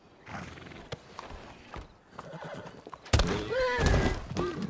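A horse in the video game Red Dead Online gives a loud, close, wavering whinny after a few scattered hoof clops and thuds, with the neigh rising and falling in pitch over its final second and a half.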